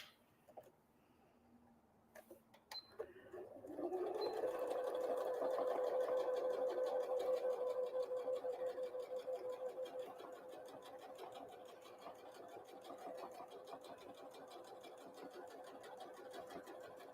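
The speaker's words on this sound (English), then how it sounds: "I'm just going to clip this in place while I top stitch around this one." A sewing machine top stitches around a cloth Christmas napkin, starting after a few clicks and then running in a fast, steady whir that gradually eases and continues nearby.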